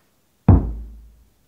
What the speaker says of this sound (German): Ein Pochen an der Tür ist zu hören.